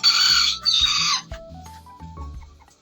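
Serama bantam chickens make a few loud, close clucks and squawks in quick succession, followed by softer, shorter clucking calls that fade toward the end.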